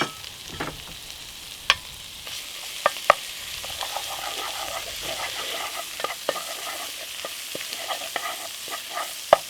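Minced pork sizzling in hot oil in a pan for a fragrant pork topping, a loud, steady crackle broken by sharp clacks and scrapes as it is stirred, with no one talking.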